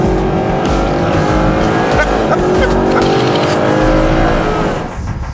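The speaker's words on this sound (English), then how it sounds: "the shove and the noise of this engine just puts a smile on your face" A Mercedes-Benz SLS AMG's engine roars loud and close, surging hard with a brief squeal of tyres and a brief softening at the end.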